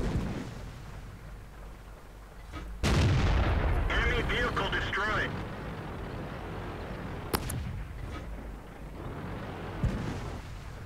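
A heavy blast lands on the player's tank in World of Tanks, a loud boom followed by a rumbling, rattling tail, then a few fainter, distant shots and thumps later on.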